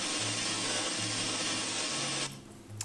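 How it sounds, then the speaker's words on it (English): A wash of synthesized white noise, the hissy tail of a cat meow sample triggered in a sampler, sustains loud and steady, then cuts off sharply near the end over a faint low hum. "So I put the white noise sample from the end of the MEOW sample into a sampler here."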